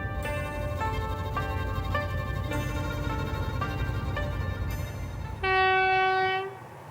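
A train on the Trans-Mongolian Railway in Mongolia rumbles steadily along the rails with long tonal horn blasts sounding several times, the last one louder and sustained.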